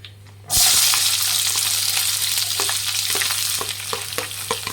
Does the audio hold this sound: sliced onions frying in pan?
yes